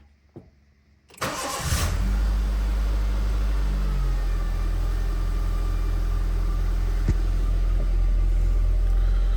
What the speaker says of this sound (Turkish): Şöyle hem sizler arkadaşlar soğuk marşını görün.